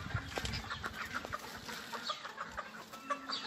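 Young poultry chicks clucking and cheeping in a farmyard, a steady stream of soft, fairly faint calls with no talking.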